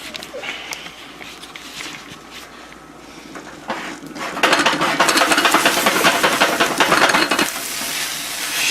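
Steam hisses and sizzles from a covered pan of pasta cooking on the stove, a steady broadband hiss that grows louder and fuller partway through, with light stirring or rattling sounds and no talk.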